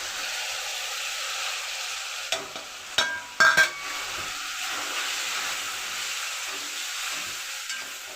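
Tomato and masala fry in a pan for a mixed vegetable dish of cauliflower, peas and potato, giving a steady broadband sizzle throughout with a few sharp scraping clicks of a spatula near the middle.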